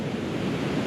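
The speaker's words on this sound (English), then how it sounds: "Every time you hear the waves crash" Ocean waves crash and wash onto the rocky shore of the Isle of Skye, a dense, steady roar of surf close to the microphone with wind noise and no voices.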